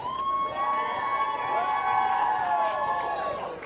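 A roller derby crowd cheers for the Public Enemies during an all-gender bout, sustained shouting and whistling filling the arena at a steady, loud level for the whole stretch.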